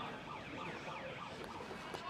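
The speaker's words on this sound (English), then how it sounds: "Got police sirens coming from the Taunton Town fan base" Police sirens played from the home fan section at a Taunton Town football match wail in rising and falling sweeps, moderately loud over a murmuring crowd.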